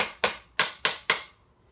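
Four evenly spaced hits on the outer edge of a Xymox Reserve Corps electronic snare pad, each a dry close knock with a faint snare-like ring that quickly fades.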